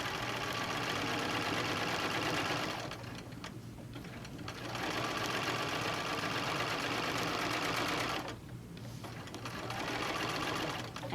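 Sewing machine running steadily while stitching ruler-work quilting guided by an Amanda Murphy Every Curve ruler, with a continuous close mechanical whir broken by two brief pauses as the fabric is repositioned.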